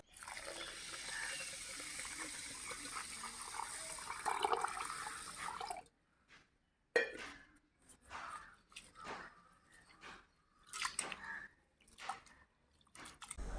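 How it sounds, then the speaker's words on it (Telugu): Rice is washed in water, starting with a continuous swishing, pouring wash that stops abruptly and gives way to scattered splashes, drips and soft clinks up close. "ఇప్పుడు ఈ శుభ్రం చేసుకోవాలి బియ్యాన్ని."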